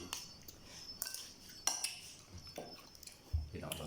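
A knife slices ingredients in a Thai kitchen, giving several sharp, separate cuts against a board, spaced about a second apart, with light clinks of utensils and dishes between them.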